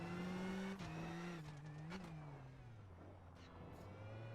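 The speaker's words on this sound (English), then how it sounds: "we'll get our final car across the line now then, but Rovanperä clear at the moment." A rally car on the Pissia stage of the 2023 Acropolis Rally Greece crosses the finish line, its mid-pitched engine revving hard then easing into a falling drone, moderately close and heard on its own.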